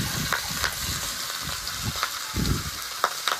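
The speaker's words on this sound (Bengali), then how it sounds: "মাছের মাথাটা ভালো করে ভেজে নেব।" Steady sizzle of a rohu fish head frying in oil in a pan, with rhythmic scraping strokes of a spatula stirring every half second or so, close and fairly loud, no voices.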